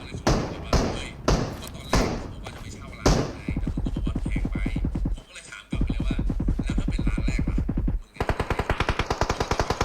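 Automatic weapon fire in the PUBG battle royale game: a few heavy separate shots, then long rapid bursts of machine-gun fire that rattle on loudly for several seconds and end in another quick volley.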